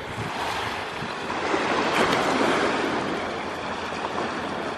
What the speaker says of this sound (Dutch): Gaan we eens kijken hoe stil de zee is.